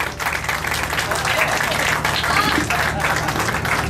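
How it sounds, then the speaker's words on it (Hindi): Audience applause at a contest, a dense, steady wash of many hands clapping that continues loud and unbroken throughout, with a faint low hum beneath. "तालियां तालियां तालियां तालियां फटाफट फटाफट लगती रहनी चाहिए।"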